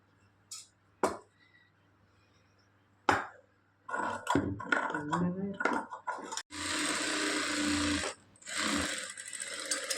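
Sewing machine joining the lining and main fabric of a long blouse sleeve, running in loud steady whirring bursts with brief pauses, after short knocks and some talking.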